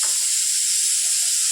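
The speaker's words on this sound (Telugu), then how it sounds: "ఏంటిది కుక్కర్ సౌండా?" Steady high hiss of a pressure cooker cooking corn kernels, loud and continuous throughout with faint low kitchen sounds beneath.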